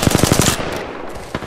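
Rapid automatic gunfire from a Peacekeeper weapon in a shooting video game, a loud burst of about eight quick shots followed by a fading tail and a single later thump.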